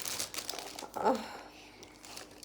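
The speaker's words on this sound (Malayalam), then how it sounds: "അപ്പോൾ നമുക്കിത് അൺബോക്സ് ചെയ്ത് നോക്കാം ഇതിൻ്റെ അകത്ത് എന്തൊക്കെയാണ്." A brief crinkle of packaging as a shopping-haul parcel is unboxed, with paper inside the box; one short rustling burst stands out around the middle over a quiet background.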